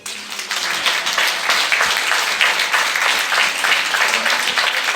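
Sustained audience applause at the close of a French stage show, a dense, even wash of many clapping hands rising quickly at the start and holding steady and loud throughout.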